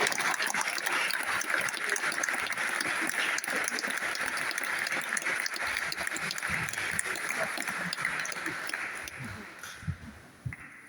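Sustained audience clapping at a public hustings with parliamentary candidates, a steady dense patter from a room full of people that fades out toward the end, with a few scattered voices.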